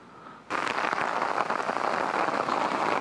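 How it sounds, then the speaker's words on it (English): Steady rain falling outdoors in the Manitoba bush during a bear hunt, a dense even hiss of drops that starts abruptly and continues close and loud throughout. "It's going to rain again."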